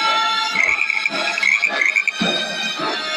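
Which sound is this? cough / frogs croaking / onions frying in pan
frogs croaking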